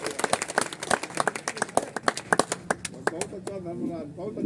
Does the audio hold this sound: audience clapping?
yes